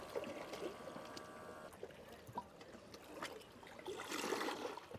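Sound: coffee pouring from a portable coffee maker by the sea

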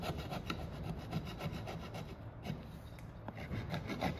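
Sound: scraping out material on a 1975 International Scout II

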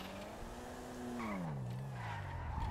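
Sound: cars in a drag race in video game GTA Online

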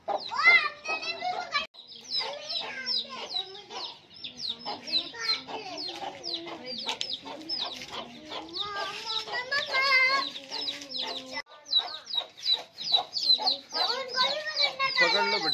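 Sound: hens clucking

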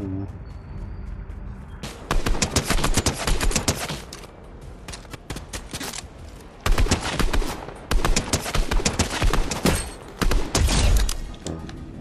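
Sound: gunfire in the video game Fortnite

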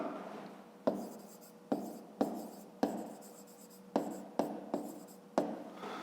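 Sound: writing by hand

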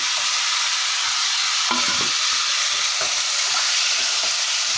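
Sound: chicken frying and being stirred in pan

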